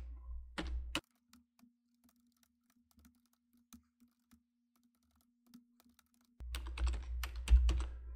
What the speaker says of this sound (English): I'm going to type that in now.